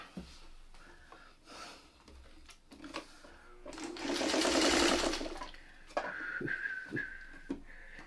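A sewing machine stitches quilt fabric along a full quarter-inch seam in one loud, steady burst of mechanical whirring. Quieter handling noises and soft breaths come before and after it.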